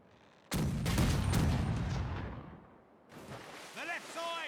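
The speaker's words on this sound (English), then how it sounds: "we're just sitting here kind of awkwardly shooting at each other right outside of the range of a fort" A heavy cannon blast booms and rolls off as ships and a fort trade fire in the pirate game Caribbean Legend: Age of Pirates, followed by another rumbling report with a voice speaking over it.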